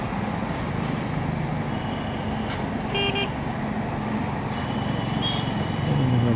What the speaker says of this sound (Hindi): जैसे इसको मैंने अभी हॉर्न दिया